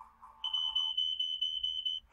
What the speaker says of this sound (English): I'm a smoke alarm.